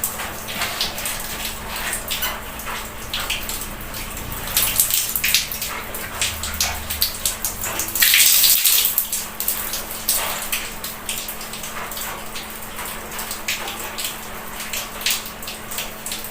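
Water splashes and drips steadily close by as a face is washed during ablution, with running, tap-like water and occasional louder splashes throughout.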